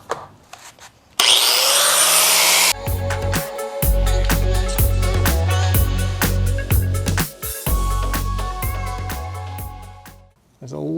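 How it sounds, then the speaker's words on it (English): An angle grinder cuts through a steel rock slider for a Lexus GX470 in loud, sustained passes with a high whine and gritty scraping, stopping and restarting several times between short breaks. "Just use a angle grinder here. This will make a very easy cut through here,"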